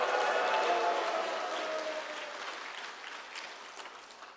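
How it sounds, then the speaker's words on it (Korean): A church congregation at a prayer meeting breaks into loud, sustained applause mixed with cheering, which gradually thins and fades over about four seconds, with no voice rising above it. "함성과 함께 박수."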